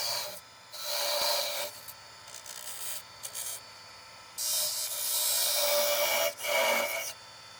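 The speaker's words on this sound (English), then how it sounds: "then sand the freshly shaped section" Sandpaper rasps against a freshly turned wooden mini vase spinning on a lathe, coming in several bursts of gritty rubbing separated by brief pauses, close and fairly quiet over a low motor hum.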